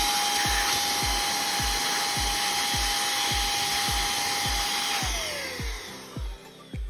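A small electric blower runs with a steady high-pitched whine and rhythmic pulsing, then spins down near the end, close and loud.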